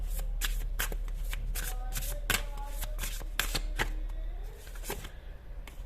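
A deck of tarot cards is shuffled by hand, a rapid series of crisp riffling snaps close up, continuous for several seconds over a low steady hum.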